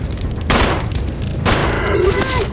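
Two sharp gunshots in Resident Evil 0 on the GameCube, each a loud close blast with a short decaying ring, spaced about a second apart over low game ambience.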